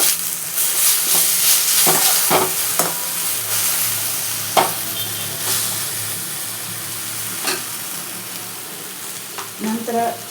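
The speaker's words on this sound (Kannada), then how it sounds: "ಒಂದು ಟೊಮೆಟೊ ಸಾಕು ಚಿಕ್ಕದು. ಇದಕ್ಕೆ ಸ್ವಲ್ಪ ಫ್ರೈ ಆಗ್ತದೆ." One small tomato frying in a pan with a constant hissing sizzle, broken by occasional sharp clinks and scrapes of a spoon, close by.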